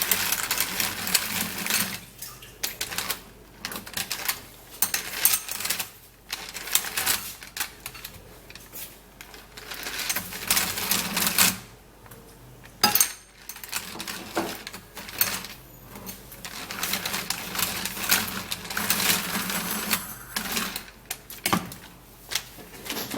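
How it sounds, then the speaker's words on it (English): Manual hand mixer whipping a paste in a bowl, an uneven run of rapid clattering and whirring churns with short pauses, close up and with no voices. "So I have to use my manual mixer and mix this all up."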